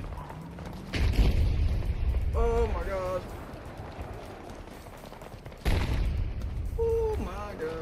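Explosions in Battlefield 2042 land as two deep, loud booms a few seconds apart, each followed by a rumbling tail, while a person speaks briefly between and after them.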